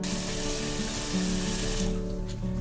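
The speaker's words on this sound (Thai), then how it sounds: "เราก็มาล้างทำความสะอาดกล้วยกันก่อนเลยค่ะ" Running water splashes steadily over unripe green-yellow bananas being washed under a tap, a close continuous gush that thins near the end.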